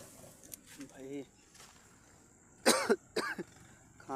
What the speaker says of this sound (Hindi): खांसी भी आने लगी यार